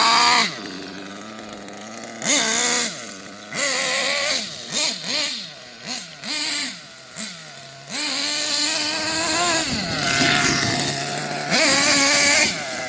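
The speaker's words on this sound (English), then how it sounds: "There we go, we're popping the wheelies now." A Kyosho USA 1 RC monster truck engine revs in repeated sharp bursts, rising and falling buzzy whines with pauses between, then longer sustained high-revving runs as it pops wheelies nearby.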